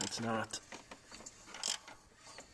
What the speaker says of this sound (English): That clicking you hear is this tensioner over here, probably because there's no oil behind it.